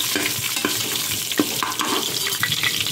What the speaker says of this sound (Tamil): அது கொஞ்சம் ஃப்ரை பண்ணிவிட்டு